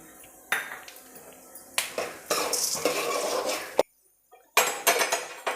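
Peanuts and chana dal roasting in a pan for green masala puffed rice, with dry crackling and scraping bursts broken by a short silence, then more clatter.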